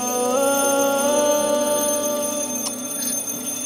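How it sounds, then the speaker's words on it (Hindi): An alarm rings steadily and loudly for the whole stretch, a continuous electronic tone with no pauses and no speech over it. "प्लीज अलार्म बंद करो ना यार।"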